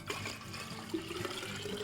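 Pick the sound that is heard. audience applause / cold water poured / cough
cold water poured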